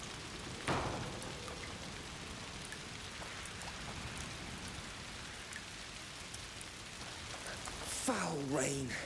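Steady rain falls in the video game A Plague Tale: Requiem, a soft, continuous hiss of drops on surfaces, fairly faint, with a brief louder splash early and a voice speaking near the end.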